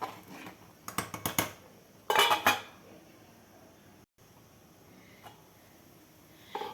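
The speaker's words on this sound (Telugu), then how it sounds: "మూత పెట్టేసి మరింకా మరగబెడదాం" A lid goes onto a simmering pot of Andhra-style sambar in a home kitchen, producing two short bursts of metallic clattering, close and fairly sharp, then quiet.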